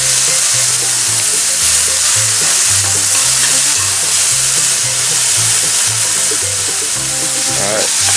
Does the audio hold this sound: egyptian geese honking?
no